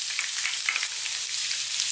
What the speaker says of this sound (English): Pop, pop, pop, crack, crack, crack. It's spluttering away.